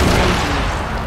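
A C4 charge detonates in a fast-paced tactical shooter firefight, a loud, dense blast with a heavy low rumble that washes over the whole moment and slowly decays.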